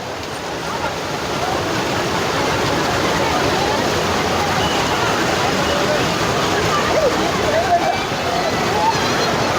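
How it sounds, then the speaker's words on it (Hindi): Waves of the Ganga river at Haridwar, where devotees bathe, wash and slosh steadily and fairly loudly as a continuous broadband rush, close by and without pause. "यहाँ पे देखिए आप लोग लहरों की आवाज़ सुनाती हूँ।"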